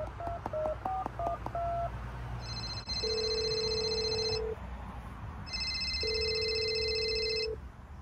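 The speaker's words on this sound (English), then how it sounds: "I'm gonna get a guy on the phone and we can chat." Outgoing telephone call: a quick burst of dialing tones, then two long ringback tones with a pause between, clear and steady with no talking.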